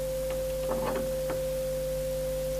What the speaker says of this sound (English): Now we add in another note called an overtone.